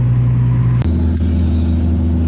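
A 2007 Nissan 350Z pulls away for a test drive, its engine giving a steady loud low rumble with a sudden pitch change midway as it shifts and moves off, no voices.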